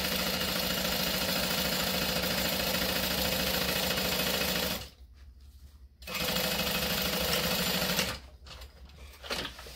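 A sewing machine stitches a thin vinyl bucket bag in two long, steady runs of close, rapid needle chatter, separated by brief pauses, loud and near with no talk.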